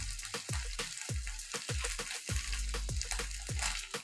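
Turmeric, cumin, coriander and red chilli powders fry in oil for a papaya and potato curry, with a sizzle under repeated rhythmic scraping strokes of a spoon against the pan, about two per second.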